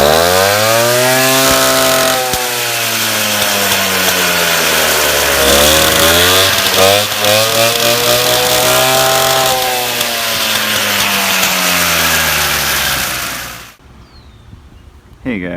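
A vintage Motobecane Mobylette 50V moped engine runs loud and close with a buzzing two-stroke drone, its pitch swinging up and down as the throttle rises and falls, then cutting off abruptly near the end.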